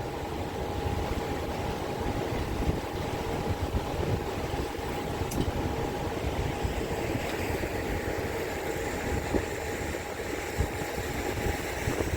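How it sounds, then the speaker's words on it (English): A catamaran's engine drones steadily beneath broadband wash of water and wind, cruising slowly on a river with a faint constant tone; no voices. "just cruising along very slowly"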